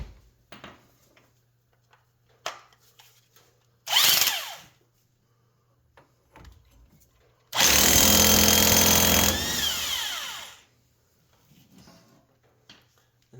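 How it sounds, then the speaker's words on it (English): An impact or power tool with a 27 mm socket spins off the castle nut on an ATV/UTV axle hub in two loud bursts, a short one and then a longer sustained run that winds down, with quiet gaps between them. "Then we're going to take this castle nut off, and this is a 27 millimeter"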